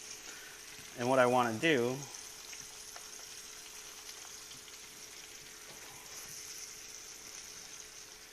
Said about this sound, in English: I'm going to throw my shrimp in here now.